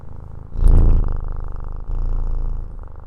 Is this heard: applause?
no